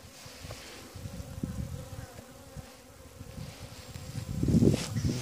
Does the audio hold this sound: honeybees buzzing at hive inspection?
yes